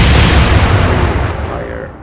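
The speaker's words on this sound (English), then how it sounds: "Let's fire as is." A heavy naval gun firing in the video game Atlantic Fleet, one loud deep boom that rolls and rumbles as it slowly decays over about two seconds, with no voices.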